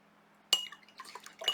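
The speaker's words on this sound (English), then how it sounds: "So I'm going to rinse my brush." A watercolor paintbrush hits a water jar with a sharp clink, then swishes through the water with brief splashy rattles, close and short.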